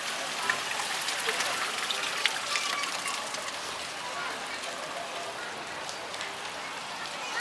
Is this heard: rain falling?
yes